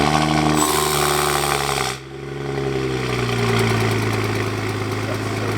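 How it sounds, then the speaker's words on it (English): A BMW 335i N55 engine idles steadily after a cold start with a low droning hum, briefly dipping in loudness midway before settling back into a rough, continuous rumble. "So you're about to get a really cold start"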